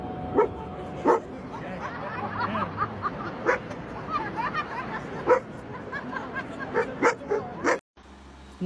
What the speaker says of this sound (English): Dogs plus doorbell equals bark at the park.